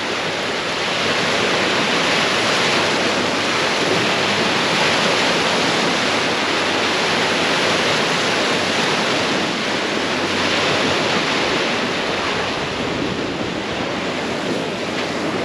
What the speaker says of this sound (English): the waves rolling in just right here.